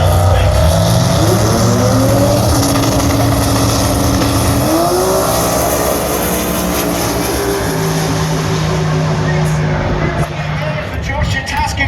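Drag racing cars, including a 3.8 litre Barra-powered six-cylinder XW on radials, launching and accelerating hard down the eighth-mile strip, loud rising engine tones under a track commentator's steady talk.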